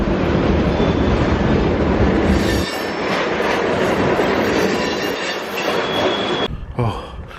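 A train rolls past close by, a loud rushing rumble with rattling wheels and faint squeals that abruptly thins out as the cars clear.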